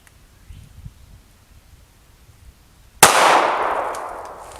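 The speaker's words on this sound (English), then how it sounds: "We're going to shoot that level 3 ultra high molecular weight helmet with a 9mm." A 9mm round strikes a level 3 ultra high molecular weight ballistic helmet, a single sharp, loud crack after quiet, with a ringing, rustling decay that trails off.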